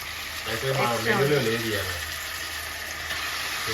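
Onions frying in a pan with chicken, a steady sizzle under a voice talking through the middle, plus faint stirring and watery sounds.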